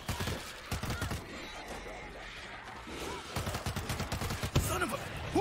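Bursts of rapid gunfire crackle through the zombie shooter World War Z, with repeated sharp shots in clusters and a louder crack near the end, over busy game ambience.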